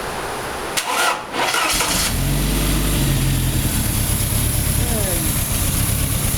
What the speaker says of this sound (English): Okay, see if she starts. Might lug a little bit